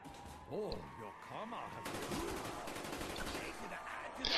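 Machine gun and shotgun fire rattles through a Black Ops Zombies match in quick bursts, fairly quiet overall, with groaning game noises before it and a denser stretch of shooting after.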